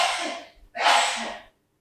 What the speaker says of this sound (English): Someone sneezed.